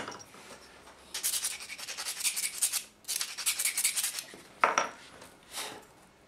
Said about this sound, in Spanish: Sácale punta al lápiz, no tiene